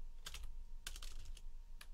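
Quick bursts of keystrokes on a computer keyboard while entering a folder name in FL Studio, close and fairly quiet, arriving in short clusters with brief pauses between them.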